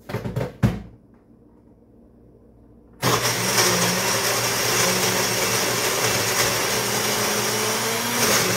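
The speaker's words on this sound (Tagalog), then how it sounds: "Irarana natin siya sa blender for about 20 seconds." A couple of clicks and a quiet pause, then a blender blending a mocha frappuccino whirs to life and runs steadily and loudly until the end.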